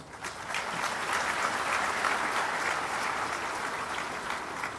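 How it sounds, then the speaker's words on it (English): Sustained, even applause from a large audience at a birth anniversary celebration fills the whole stretch, dense and continuous with no talking over it. "I think they deserve one more round of applause."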